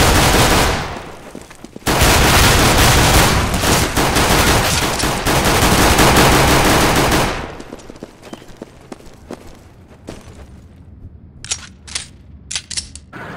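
Gunfire in CS:GO: a loud, sustained burst of rapid automatic fire fills the first seven seconds, followed by sparse clicks and a few short sharp shots in the final seconds.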